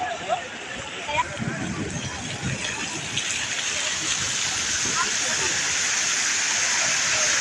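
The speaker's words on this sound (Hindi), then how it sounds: "यकदम ही बारिश लगी" Sudden rain shower in Kuala Lumpur, Malaysia, a steady broadband hiss of heavy rainfall close by, continuous for the whole stretch and growing slightly denser toward the end, with faint voices mixed underneath.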